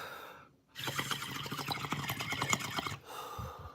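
Water in a bong bubbles and gurgles in a rapid rattling burst for about two seconds, close and fairly loud, then stops.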